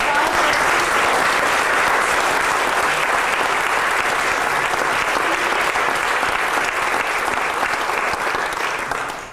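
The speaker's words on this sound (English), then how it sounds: "while we have some well-earned applause" Sustained loud applause from a large crowd at a church service anniversary, steady throughout and fading slightly at the very end.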